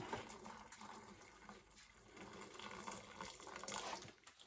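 Water poured into a pressure cooker around a steamed steak and kidney suet pudding, a steady close splashing and gurgling stream that runs continuously and alone, swelling slightly toward the end.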